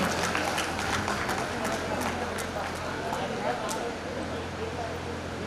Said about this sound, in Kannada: ವಿ ಕೆ ಹಿರಮಠ್ ಸರ್ ಅವರು ಚಪ್ಪಾಳೆ ಮುಖಾಂತರ ಶಿಕ್ಷಕರ ಸ್ವಾಗತವನ್ನ